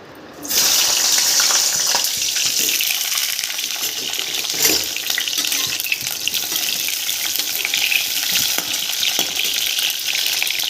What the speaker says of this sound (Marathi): वांगे आपण आधी तेलामध्ये फ्राय करून घेऊया